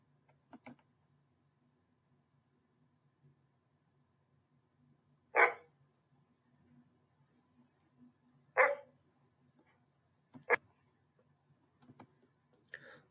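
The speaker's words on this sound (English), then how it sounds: "Woof went the dog." A dog barks three separate times, short sharp barks spaced a few seconds apart, standing out clearly against an otherwise quiet background with faint low hum.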